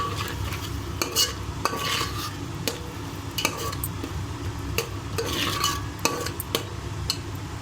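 A utensil scrapes and clanks against a pan in repeated strokes while stirring egg fried rice, with a light sizzle underneath and no talking.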